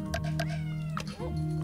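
A house cat meows insistently up close, a run of short drawn-out calls, one louder wailing meow, with a steady hum underneath and little talking.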